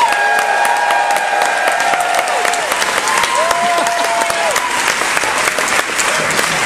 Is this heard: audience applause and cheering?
yes